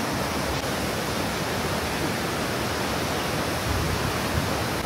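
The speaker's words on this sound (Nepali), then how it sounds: "झरना" A waterfall on a mountain trek route beside a suspension bridge gives a steady, loud, broadband rush of falling water, unbroken for the whole stretch with no voices.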